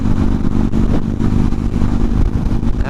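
A 2015 Harley-Davidson Dyna Street Bob FXDB V-twin rumbles loud and close in a steady, throbbing revving drone. No one speaks.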